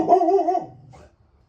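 A single drawn-out dog bark, close and fairly loud, tailing off into a brief low rumble and then quiet.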